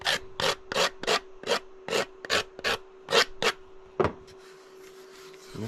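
A 3D printed part is sanded by hand with sandpaper, about a dozen rhythmic rasping strokes close to the microphone, each brief and evenly spaced, with a faint steady hum beneath.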